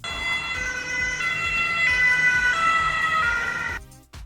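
An ambulance siren wails steadily and fairly loud for about four seconds, a continuous tonal cry with no talk, cut off abruptly at the end.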